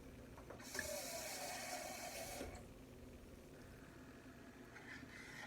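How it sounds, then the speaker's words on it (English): Water poured into homemade burrito sauce made with crushed tomatoes, a brief close splashing pour lasting about two seconds, then fading to a quiet, faint trickle and low background noise. "So what I'm going to do is add a little bit more water."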